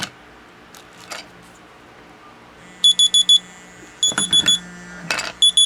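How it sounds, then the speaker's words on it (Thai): A MyKronoz ZeClock smart clock's find-me alert beeps in quick bursts of four while the clock vibrates, repeating with short gaps, loud and close, with faint handling noises and a buzzing undertone. "กดครั้งหนึ่ง มันจะสั่น ตัวเครื่องก็จะสั่นนะครับแล้วมีเสียงดังขึ้นมานะครับ"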